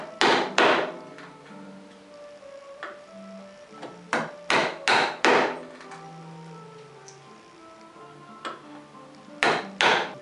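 Hand chisel strikes chop a mortise into a wooden workpiece: sharp, close knocks arriving in small clusters of two or three, separated by quieter scraping and pauses.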